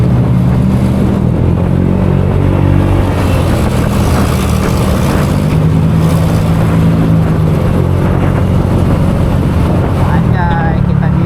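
A Honda PCX 150 scooter speeds along a highway on a long solo tour from Jakarta to Jogja, its engine drone steady and loud under heavy wind rush throughout.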